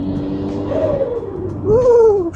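Turbocharged Toyota GR86 running E85 with an HKS GT3 turbo, its engine note rising and falling in pitch as revs build and drop, loud and close from inside the car, with a brief whoop from an occupant.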